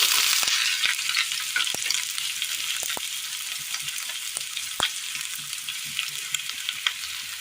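Chopped onion frying in a pan, with a constant hissing sizzle up close and scattered clicks and scrapes as it is stirred.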